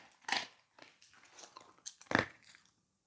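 A dog chewing a treat, with crisp crunching bites in irregular bursts, close and fairly faint, with no speech.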